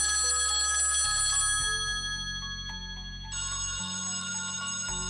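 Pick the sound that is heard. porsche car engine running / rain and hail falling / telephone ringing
telephone ringing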